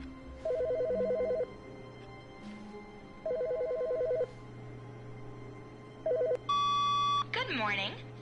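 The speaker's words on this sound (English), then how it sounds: "Phone's ringing." A telephone in The Stanley Parable rings in repeated electronic trilling bursts, three clear rings followed by a brighter beeping tone, close and loud over a low steady hum.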